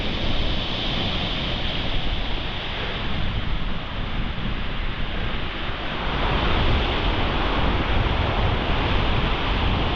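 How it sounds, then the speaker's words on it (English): Wind gusting across Chesil Beach on a sea fishing day in November, a loud, dense broadband roar mixed with surf wash that swells slightly toward the end, with no voices. "That wind's just starting to get up."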